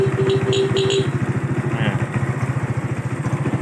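A Honda Wave 125 R carbureted motorcycle, a 2011 used bike, runs at a steady idle with a close, rapid, even putter, and a couple of brief high beeps sound near the start.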